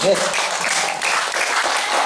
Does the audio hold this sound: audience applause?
yes